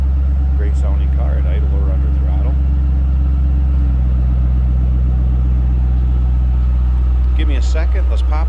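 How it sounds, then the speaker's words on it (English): A supercharged 2007 Ford Mustang Saleen S281 idles steadily with a deep, even low rumble, heard close from behind the car, with a brief voice early on. "Great sounding car at idle or under throttle."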